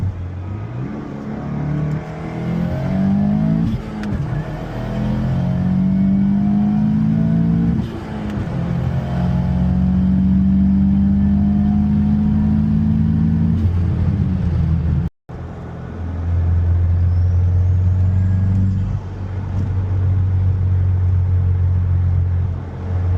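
A 2022-or-newer Subaru WRX fitted with a Perrin low-profile intake cruises down the road, its steady engine drone rising and settling through gear changes, loud and close from inside the car, with a brief cut partway through.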